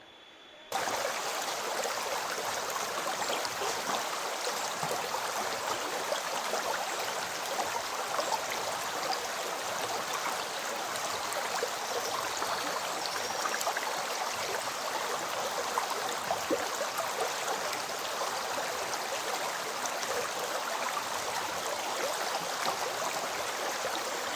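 Broadband rushing river water at Karnaprayag, the confluence of the Alakananda and Pindar rivers in the Himalayan foothills, a steady, dense roar holding even throughout with no voices.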